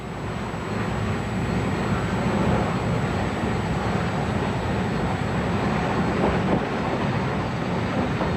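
A Roaring Camp railroad train rolls past a sawmill on its way back to the station after a trip up Bear Mountain, giving a steady, continuous rumble and rattle with no voices.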